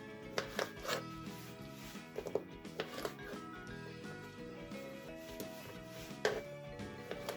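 Soft, irregular knife taps on a cutting board while slicing lemon rings, a handful of quick chops spread through the clip over faint background hum.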